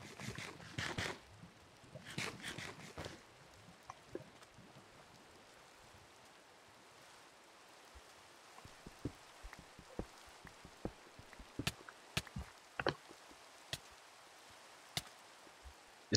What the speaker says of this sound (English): It's not gonna stop raining for a while